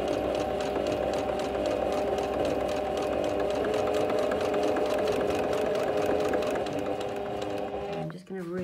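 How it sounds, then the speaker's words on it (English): A domestic sewing machine stitches steadily around the edge of a fabric drawstring wash bag with the needle set in the middle position, a close, even whirring hum that runs for several seconds and then slows and stops at the end. "I'm just going to stitch round this now."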